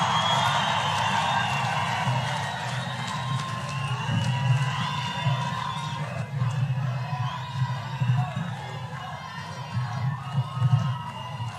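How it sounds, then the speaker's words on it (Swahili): A crowd at a title-deed ceremony for Embakasi Ranching Company shareholders in Kenya rises to welcome the President of Kenya with sustained applause, cheering and whoops that hold steady throughout. "Simameni tumkaribishe rais wa Jamhuri ya Kenya kwa makofi."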